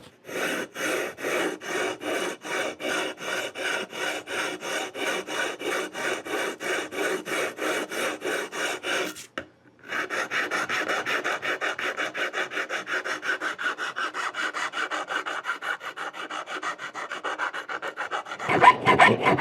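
A file rasps rhythmically over the fret ends of a guitar neck to round off sharp edges, close and steady back-and-forth strokes with a brief pause midway before the scraping resumes.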